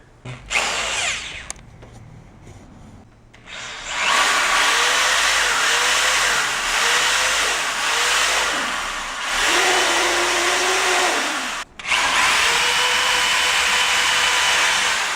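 A power drill bores a hole into a Koni Yellow shock absorber for a 2006–2011 Honda Civic Si, whining loudly and steadily for several seconds with brief pauses and pitch shifts as the bit bites into the metal body.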